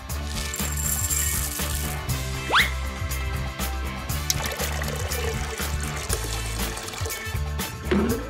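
Liquid poured from a dispenser into a spinning bowl, heard as a continuous trickling, splashing flow with a rising pitch sweep partway through, close and fairly loud over a steady background hum.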